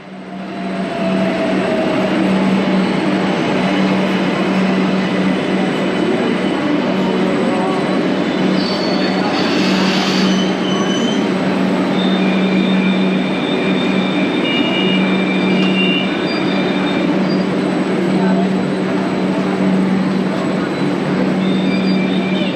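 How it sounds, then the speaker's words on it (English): A Kolkata subway train runs loudly, its rumble and rattle steady throughout, with a sustained metallic wheel squeal and a few brief higher screeches layered on top. "now I'm going to the subway station and taking the subway to somewhere in Kolkata"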